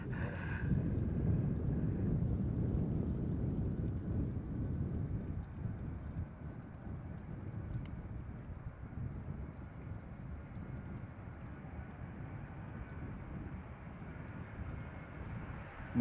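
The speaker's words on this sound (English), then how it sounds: "In the meantime, a Transavia A321neo is flying downwind." A Transavia Airbus A321neo flies downwind near Amsterdam Schiphol Airport, heard as a low, steady distant engine rumble with some wind noise that fades slightly over time.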